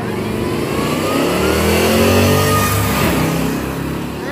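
A Ford Crown Victoria and a Dodge Dart launch in a heads-up drag race, their loud engines roaring and revving together up close with rising pitch, then easing as the cars pull away down the strip.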